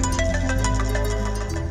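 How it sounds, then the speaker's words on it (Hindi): A phone ringtone plays an incoming call, a short repeating electronic melody heard close and clear with no talking. "ले, मेरे पापा का भी फोन आ गया"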